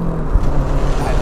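A Lancia Delta HF Integrale Evoluzione's turbocharged engine roars loudly from inside the car under acceleration, a brief dense rumble of engine and road noise.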